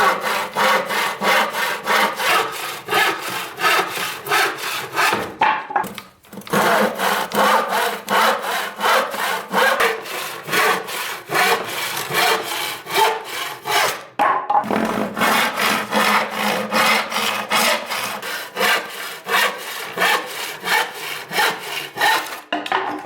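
A hand saw cuts through a piece of wood, its steady back-and-forth strokes rasping continuously up close, with two brief pauses partway through.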